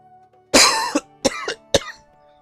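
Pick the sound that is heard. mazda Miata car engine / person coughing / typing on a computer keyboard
person coughing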